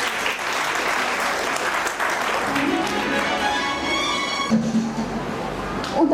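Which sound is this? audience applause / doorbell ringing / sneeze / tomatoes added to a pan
audience applause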